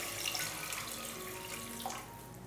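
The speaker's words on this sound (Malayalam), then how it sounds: "ഒരു 2 കപ്പ് അളവിലാണ് ഞാനിപ്പോൾ ഇതിലേക്ക് വെള്ളം ചേർത്ത് കൊടുക്കുന്നത്." Two cups of water are poured into a pan of spicy egg pepper masala, making a soft, continuous splashing pour that is faint and close, with no talking.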